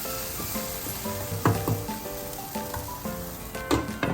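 An egg fries in a pan with pepper, making a steady, close crackling sizzle punctuated by a few sharper pops, with faint tonal sounds in the background.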